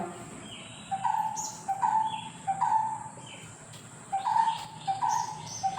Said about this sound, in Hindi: उनको जो है पक्षियों की आवाज़ भी सुनाई पड़ती होंगी।